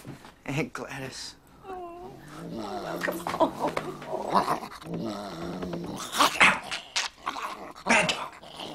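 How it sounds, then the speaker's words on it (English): Dog growling and barking in a film scene from 8 Legged Freaks, rough snarls and sharp barks mixed with voices and other film sound, at moderate loudness. "Bad dog. No."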